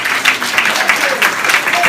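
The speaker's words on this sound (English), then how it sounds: "give them a resounding round of applause" Steady applause from an audience at a public library board of trustees meeting, a dense, continuous wash of many hands clapping at close range, with no break.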